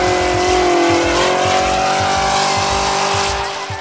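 Race cars on a test track, a loud, close engine roar with a steady rhythmic pulse and a high whine running throughout, no voices.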